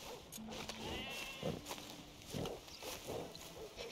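Sheep bleating inside a barn in Red Dead Redemption 2, several short wavering calls at irregular intervals, fairly faint and set back in the game's ambient noise, with occasional light footsteps.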